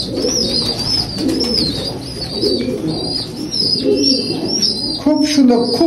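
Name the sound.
Teddy pigeons cooing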